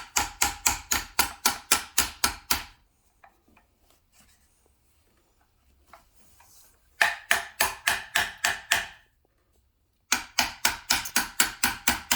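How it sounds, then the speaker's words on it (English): Rapid, evenly spaced hammer blows in three bursts of about a dozen strikes each, separated by quiet pauses with faint shuffling. "I need a hammer, Chris."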